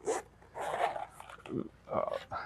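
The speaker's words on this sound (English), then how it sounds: "Very nice zippers." Zippers on a game console carrying case being pulled open and shut in a few quick scraping strokes, close and fairly loud, with short pauses between them.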